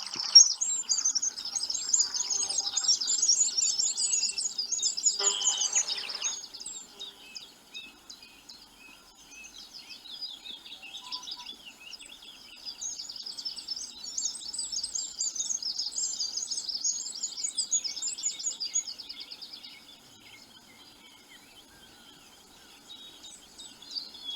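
Several bursts of wren song, high, rapid trilling phrases heard at a moderate distance outdoors, with quieter gaps between bouts and a faint background of other birds or insects.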